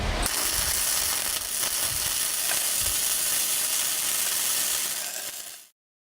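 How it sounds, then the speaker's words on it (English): Flux-cored arc welding on a T-joint, a loud continuous crackling sizzle held close for about five seconds before cutting off abruptly, with no talking. "on thicker pieces, you may want to weave the gun, pausing on each side to avoid undercut"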